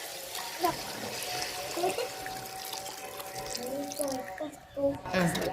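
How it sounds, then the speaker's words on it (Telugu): Water trickles and splashes steadily into a pot of boiled pigeon peas, close up, with a faint hum in the background; no speech. "కాబట్టి ఇంక నీళ్ళు అయితే వేసుకుందామండి."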